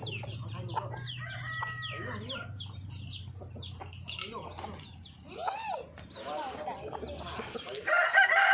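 A fighting-breed rooster crows over steady hen clucking and chattering birds on a farm, with a low hum underneath and people talking nearby.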